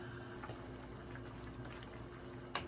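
Stew peas with smoked turkey neck simmering in a pot on the stove, a quiet steady bubbling with occasional small pops and a soft click near the end.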